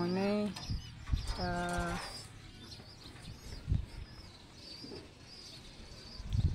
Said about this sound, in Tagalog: tigdi na po ang kalapati ko po